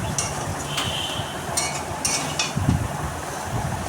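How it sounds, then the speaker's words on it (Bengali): Chow mein being tossed and stirred in a pan with a spatula, soft scraping and rustling strokes with a few brighter clinks over a low hiss, moderately close and quiet. "আমরা এখানে খুন্তি দিয়ে ভালো করে চাউমিনটাকে মিশিয়ে মিশিয়ে নাড়ছি"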